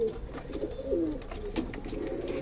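Domestic pigeons sitting on eggs coo nearby in low, throaty, rolling calls that repeat several times over a faint background hiss.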